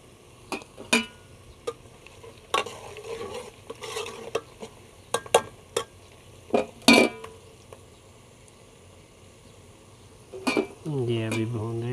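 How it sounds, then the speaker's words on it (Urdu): Onions fry in oil in a pan for bitter gourd curry, a low sizzle under sharp clinks and scrapes of a spoon stirring against the pan, with a brief voice near the end. "ابھی آئل ڈال دیا ہے، ابھی یہ تھوڑا بھون رہی ہے۔"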